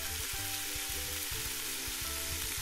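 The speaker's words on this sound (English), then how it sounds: "I have a pot filled with water. I'm going to add my peas, and then I'm just going to boil them." Peas cooking in a pot of water give off a dense, steady hiss and bubbling sizzle with soft low knocks, continuous and close for a couple of seconds with no voices.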